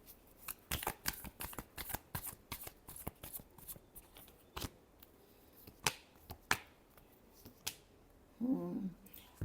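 Tarot cards shuffled by hand, a quick run of crisp riffling snaps and flutters close to the mic, with pauses between bursts and a brief shuffle again near the end.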